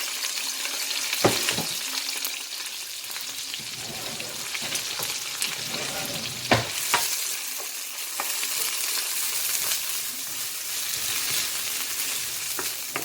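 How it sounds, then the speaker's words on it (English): Onions and peppers sauté in oil left from frying sprat, giving a steady, bright hiss and crackle throughout with occasional stirring knocks, close and continuous with no talk. "I'm going to add in my onions and my pepper and I'm going to saute it"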